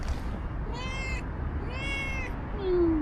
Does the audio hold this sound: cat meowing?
yes